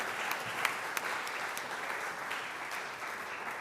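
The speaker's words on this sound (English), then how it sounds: "please let me welcome Leslie up to the podium with a nice round of applause" Steady round of applause from a lecture audience welcoming a speaker to the podium, dense and continuous with a few sharper claps poking out, moderately distant and alone without talk.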